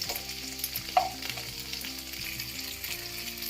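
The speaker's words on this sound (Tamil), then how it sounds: "நல்லா ஒரு 5 நிமிஷம் நல்லா வறுத்து எடுத்துக்கலாம் எண்ணெயில்" Cluster beans sizzle steadily in hot oil in a pan, a close, continuous crackling fry with light stirring noises and one brief clatter, no voices.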